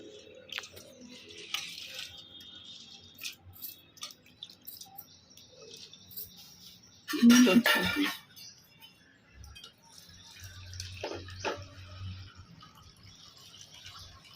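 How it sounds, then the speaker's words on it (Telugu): Toor dal being washed with water in a vessel: soft drips, splashes and wet sloshing come in scattered bursts, with one louder stretch of swirling water midway, close by and with no speech. "అట్లా నీళ్ళు పోసి కడుగుతున్నాను"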